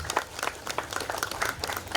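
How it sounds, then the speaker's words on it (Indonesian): Applause at a government hospitality gathering with veterans, made up of distinct, fairly close hand claps in an uneven rhythm that stay moderately quiet. "Kasih tepuk tangan yang buat Bunda Mardiana."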